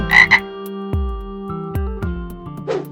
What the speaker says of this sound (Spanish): Rueguen a su Dios que quite estas ranas asquerosas